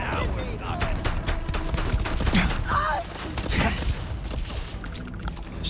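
Rapid volleys of gunfire in Starfield crackle continuously, with sharp repeated shots, mechanical clatter and thuds mixed under occasional voices during a chaotic firefight.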